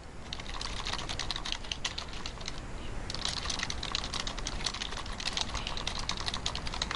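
Steady, dense computer keyboard typing while an email message is entered, continuous rapid key clicks at close range with no voices.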